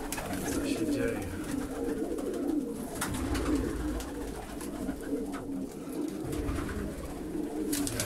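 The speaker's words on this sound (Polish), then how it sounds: "Wejście gołębi do gołębnika po oblocie." Pigeons returning to their loft after a flight give soft, repeated cooing with wing flutters and shuffling close by, while a person talks intermittently over the birds.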